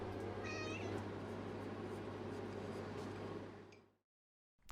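A domestic cat meows briefly near a kitchen where chicken is being steam-cooked. The call is short and fairly faint over a steady low hum that continues until it stops abruptly.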